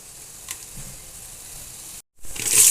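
Mustard seeds, cumin and chana dal sizzling in hot oil for hotel-style puri curry, a faint steady hiss that cuts out briefly, then returns as a loud, bright crackling sizzle near the end.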